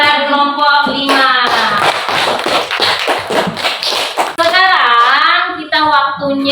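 Classroom of children clapping for a student group after their performance, a dense burst of hand claps mixed with kids' voices and shouts over several seconds.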